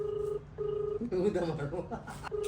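A phone call is placed, with a steady repeating dial tone in short pulses broken by keypad beeps in the middle, and a voice speaking briefly over it.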